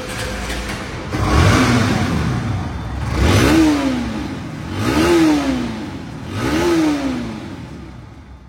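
A Bajaj Pulsar NS 160 motorcycle idles nearby and is revved four times in a steady rhythm, each throttle blip rising loudly and falling back to a smooth idle, with no talking.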